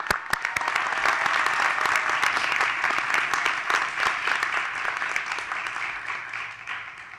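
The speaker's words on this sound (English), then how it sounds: "Another round of applause for our graduates." An audience at a graduate health science commencement ceremony applauds the graduates, a dense, sustained burst of clapping that holds steady for several seconds and then tapers off.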